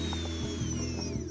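The brushless motor of a homemade ESP32-controlled submarine switches on, producing a close, steady electric hum with a thin high whine and faint mechanical rattling throughout.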